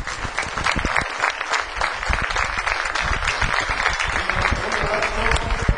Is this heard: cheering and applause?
yes